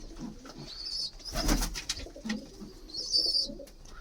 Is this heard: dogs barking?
no